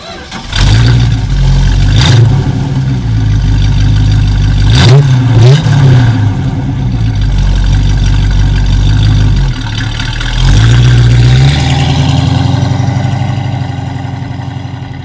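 The engine of a 1971 Dodge Challenger revs repeatedly, loud and close, with deep rumbling swells that climb and fall over a steady idle throughout.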